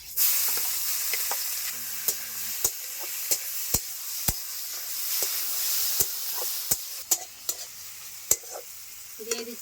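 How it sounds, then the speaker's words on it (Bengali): Marinated bhujia fish fries with garlic in mustard oil in a wok, a constant close hiss punctuated by sharp, scattered spatula taps and scrapes against the metal. "দিয়ে দিচ্ছি মাখিয়ে রাখা ভুজিয়া মাছগুলি।"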